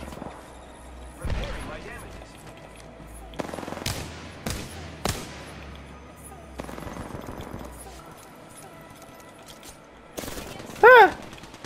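Apex Legends gunfire comes in sharp, scattered bursts, some as single cracks and some as short rapid volleys, spread among quieter gameplay sounds, with players talking in between.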